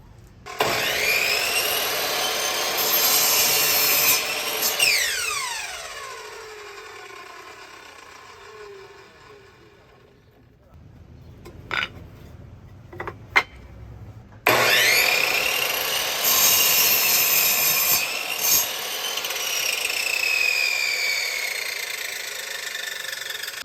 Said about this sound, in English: Let's just get cutting first with my miter saw.